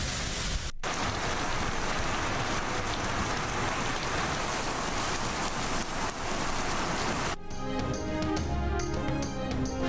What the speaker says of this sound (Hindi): इस्लामाबाद और रावलपिंडी में शदीद बारिश